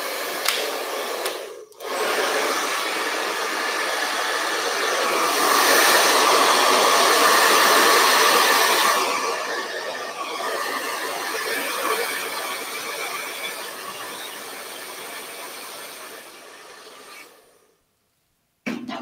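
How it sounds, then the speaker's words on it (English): A hair dryer blows steadily and loudly for about seventeen seconds, used to quickly dry a heat-activated craft material, with a brief dip near the start before it cuts off abruptly at the end. "And let's get the hairdryer on that."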